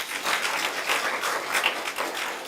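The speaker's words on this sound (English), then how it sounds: "let's give a clap to Madam Mugenda" An audience at a specialized clinics launch at Kenyatta University Hospital applauds for Madam Mugenda, a steady, moderately faint patter of many hands clapping.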